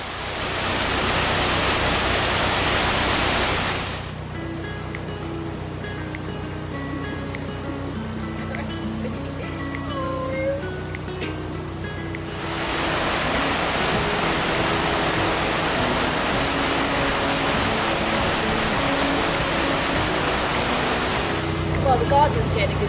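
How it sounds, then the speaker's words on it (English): Water rushing into a filling canal lock beside a narrowboat, a loud steady broadband roar that eases partway through before surging back, with soft tonal engine hum underneath and no talk. "in the short time it's taken the lock to fill"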